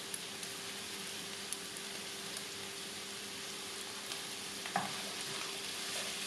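Onion, carrot and bell pepper sizzle steadily in a hot pan, a soft continuous frying hiss with a few faint clicks and stirs, no talking.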